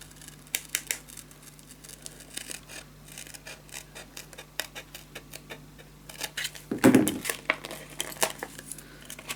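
Scissors cutting paper for a Crystal Bliss mini album, a run of quick snips close by with a louder crinkling cut near the end, no voices.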